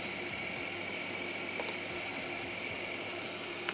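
An electric meat mincer motor runs at medium speed for mincing meat in a restaurant kitchen, giving a continuous loud whirring drone with a steady mechanical hum and no break or change in pitch.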